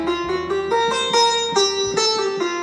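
Sitar picks out a plucked melody line, a steady run of bright twangy notes with buzzing overtones, close and alone.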